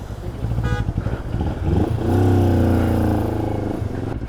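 Royal Enfield Interceptor 650 motorcycle riding through a mountain water crossing on the Chandratal to Manali route, its engine rising to a loud, steady drone up close, mixed with splashing and rushing noise.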